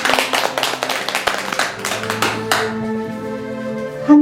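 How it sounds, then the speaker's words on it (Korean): An audience at a Korean Buddhist lecture and chanting session claps in unison, a quick run of sharp, close hand claps over sustained singing or chanted tones, then the clapping stops and the held notes carry on alone. "박수 한번 치고"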